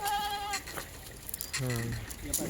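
Top-quality dairy goats bleat close by during a livestock sale, with a drawn-out cry at the start and another loud bleat later, over a background of murmuring voices.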